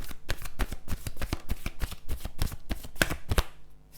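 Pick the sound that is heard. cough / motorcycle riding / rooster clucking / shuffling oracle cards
shuffling oracle cards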